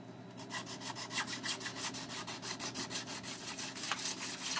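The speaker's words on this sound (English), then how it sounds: "stop sawing when it slips" A fine razor saw cuts back and forth through the resin casting base of 1/48 scale Tornado FLIR and IRLS model pods, giving a steady run of close, even rasping strokes throughout.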